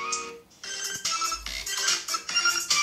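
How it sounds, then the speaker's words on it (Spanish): A copyright-free song plays from a mobile phone speaker, bright tinny music with rhythmic phrases filling the whole stretch, fairly loud and alone. "voy a colocar una canción en mi celular"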